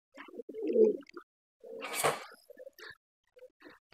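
Pigeons coo softly nearby in short throaty bursts separated by quiet gaps, with faint rustling between calls.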